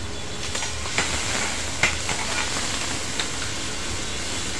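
Onion tossed into hot oil with crushed ginger and garlic for Maharashtrian sev bhaji, a steady broadband sizzle with a few sharp crackles, close and continuous, no voices.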